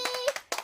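Quick hand claps ring out close and fairly sharp, three or four bright bursts in a brisk, uneven rhythm with a faint voice tone mixed in.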